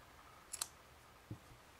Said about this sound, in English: we will cut the yarn